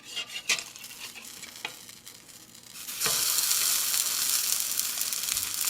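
Pupusas are laid into oil on a griddle, and after a few scrapes and clinks a steady, loud sizzle of frying takes over and holds to the end.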